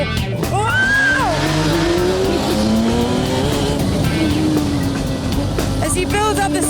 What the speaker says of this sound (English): It's just instant acceleration, accompanied by loads of noise, shed loads of vibration.